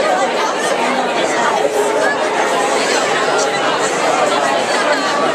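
Dense crowd chatter from a large group of people waiting in line at VidCon, a steady unbroken babble of many overlapping voices filling the space at close range.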